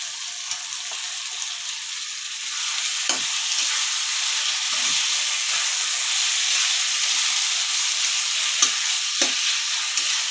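Chopped tomatoes fry in a pan with a steady, bright sizzle and hiss, joined by a few soft clicks of stirring, close and continuous with no talking.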